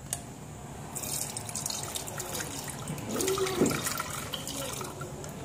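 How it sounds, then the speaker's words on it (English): Kefir starter liquid poured through a plastic strainer, a soft low trickle and splash in a quiet kitchen, faint and brief with a few light drips. "I'm going to pour about a cup in there."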